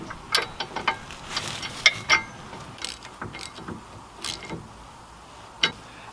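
Ratchet tightening bumper bolts on a Ford F-250, with a series of quick clicking ratchet strokes in irregular bursts, fairly close and moderate, no talk.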